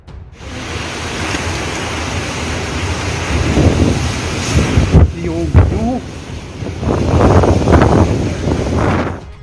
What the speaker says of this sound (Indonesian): Angin kencang merobek perkotaan.